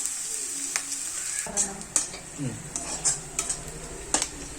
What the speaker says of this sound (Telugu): వేగాలి ఉల్లిగడ్డ బాగా